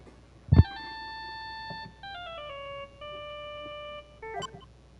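A mobile phone ringing in Phoenix Wright: Justice For All, a short electronic chiptune ringtone of sustained stepped tones following a soft thump, with a brief blip at the end.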